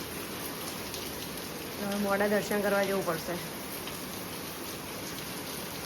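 Steady rain falls outdoors, a dense, even hiss that fills the whole stretch, with a brief spoken voice over it in the middle.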